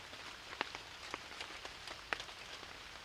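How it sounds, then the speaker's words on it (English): Light rain patters on a surface at a wilderness campsite, soft and steady, with scattered sharper drips tapping close by. "A light rain falling."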